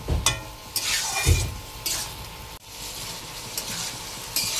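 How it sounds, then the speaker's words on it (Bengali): Ridge gourd and potato cooked with poppy seed paste, sugar, salt and turmeric sizzle in a pan while a spoon scrapes and stirs in repeated loud sweeps, with occasional metal clinks and no voices. "ভালো করে কষিয়ে নেব"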